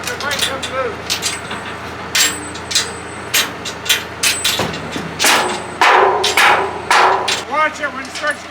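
Repeated metallic hammer strikes on a chain ring out at an irregular pace, some hard and loud, over a steady engine hum with voices talking now and then.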